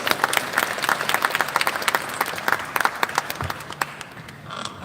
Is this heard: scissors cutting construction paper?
no